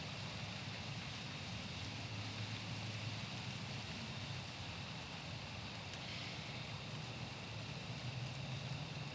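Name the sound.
rain falling outdoors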